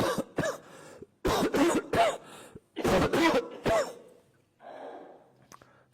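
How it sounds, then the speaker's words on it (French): Several harsh coughs and throat-clearing bursts come in clustered groups during a yoga class, loud and near, separated by short silences and ending with softer breathy sounds. "laissez tousser, c'est ok."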